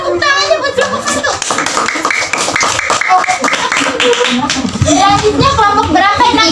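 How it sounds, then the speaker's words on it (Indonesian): Schoolchildren in a classroom clap for a group, a lively burst of many small hands mixed with excited children's voices and chatter, loud and close throughout. "Mana tepuk tangannya buat kelompok 1?"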